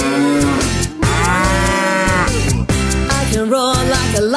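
Children's voices moo like a cow over loud nursery music at a school performance, drawn-out sung moos imitating cattle, loud and close throughout.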